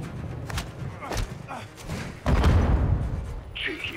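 Grenade blast in the Modern Warfare 2 campaign, a heavy thud and boom that rises over the gunfire and continues through the clip, with shouted voices around it.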